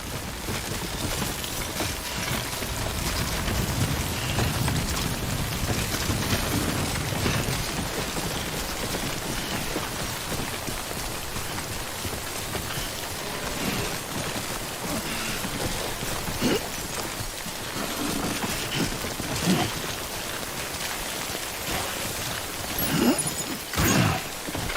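Steady rain falls in the video game Death Stranding, a soft continuous hiss of drops with occasional louder spatters, moderately loud and unbroken for about twenty-five seconds.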